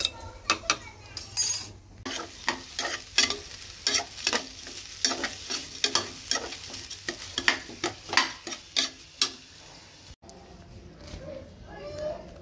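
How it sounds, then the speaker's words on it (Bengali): Round potato slices fry in a pan with a steady sizzle, punctuated by repeated scraping stirs of a spatula against the pan, close and fairly loud. "পটল ভাজাটা হয়ে গেলে গোল গোল করে আলুগুলো ভাজবো।"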